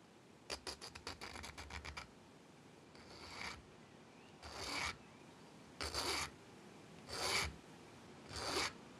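A 3D printed part is filed to clean it up. A quick run of short, rapid rasping strokes comes first, then slower, separate scraping passes at an even rhythm, close and clear against a quiet background.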